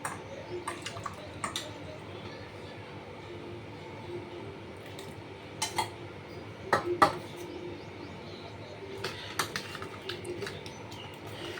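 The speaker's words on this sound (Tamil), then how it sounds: "இதில் கொஞ்சோண்டு உப்பு சேர்த்து தயிர் மிக்ஸ் பண்ணி ஃப்ரிட்ஜில் வச்சிடலாம்" Curd being mixed with salt and chopped onion for raita, heard as soft, scattered squishes and light spoon taps against a bowl, fairly faint against a quiet background.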